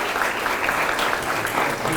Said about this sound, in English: Let's give her another round of applause for that.